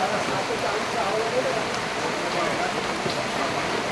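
Steady light rain falling outdoors, a continuous soft hiss of drops on surfaces, even and unbroken throughout.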